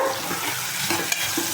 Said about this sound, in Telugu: కానీ సౌండ్ మాత్రం వినిపిస్తుంది కదా, తాలింపు వేసిన సౌండ్